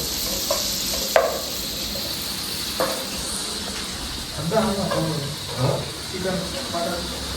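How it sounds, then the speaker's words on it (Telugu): Onions and green chillies sizzle and hiss steadily in a pan for brinjal curry, with occasional stirring clatters and scrapes; a voice talks faintly in the background. "ఇప్పుడు ఆనియన్స్ మిర్చి అన్నీ వేసి అయితే ఫ్రై చేసుకుంటాం"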